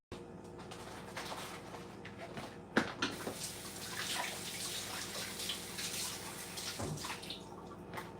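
Tap water runs steadily while items are rinsed under it, a soft continuous splashing with small bumps and clatters as things are handled.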